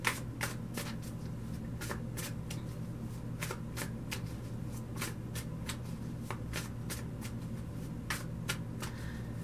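Tarot cards being shuffled over a steady low hum, a quick run of crisp riffling flicks repeating throughout, close and fairly quiet, with no talking.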